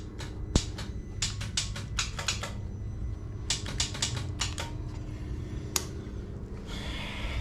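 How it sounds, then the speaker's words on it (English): A faulty winch on a Can-Am Outlander ATV clicks repeatedly in quick, uneven bursts of sharp ticks, close and fairly quiet over a low background hum. "you can hear the clicking"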